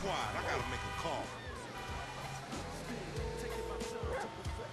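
Dog in the game Grand Theft Auto V yelps and barks in short, high, whimpering bursts at moderate distance, mixed in with people talking over it.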